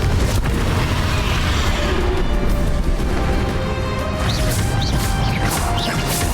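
Explosive spell blasts go off in a Hogwarts Legacy final boss fight, loud crashing booms and impacts layered over dense battle noise, with a few sharp whooshing bursts near the end.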